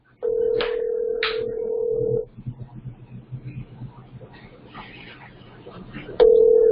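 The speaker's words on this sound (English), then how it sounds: "let me call Kim right now while I'm thinking about it" A phone call rings out over a speakerphone at a freight brokerage desk, with two steady ringback tones separated by a stretch of quieter background activity.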